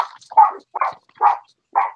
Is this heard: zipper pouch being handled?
no